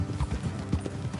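Horses' hooves clip-clop steadily on a road in a video game, an even close rhythm of several animals moving at a walk with no talk over it.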